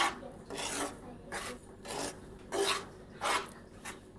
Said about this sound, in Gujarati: હવે આપણે લોટને સારી રીતે મિક્સ કરી દેવાનો